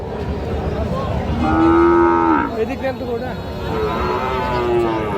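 A Sahiwal bull calf moos at a livestock market: one long, loud, drawn-out bellow, then a fainter second low call, over busy crowd noise and murmuring voices.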